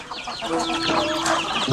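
Chickens clucking in a farmyard, a steady run of short overlapping clucks close by with a louder burst at the end, and no talking.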